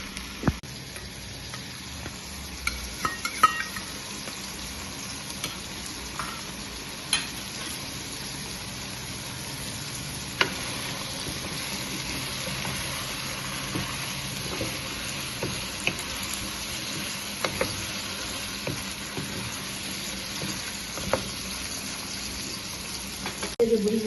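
Raw mango chutney cooks slowly on low heat in a covered pot, giving a steady, soft sizzle with scattered small pops and crackles throughout, moderately close and continuous with no talking.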